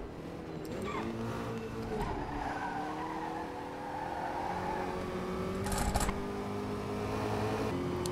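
An open-wheel race car in the rFactor 2 racing game skids with a long, loud tire squeal over steady engine drone, ending in a brief burst of revving.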